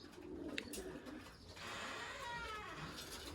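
Racing pigeons cooing softly in a loft, low murmuring coos heard faintly at a distance amid quiet background rustle.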